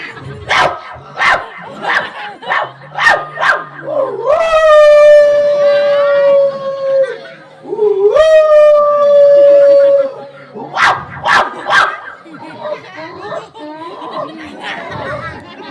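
Dogs howl in two long drawn-out wails during a village nautanki stage performance, loud and close, framed by short barks and excited chatter before and after.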